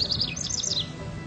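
A songbird chirps in a quick run of high, bright notes, clear and fairly close, fading out after the first half with faint background hiss.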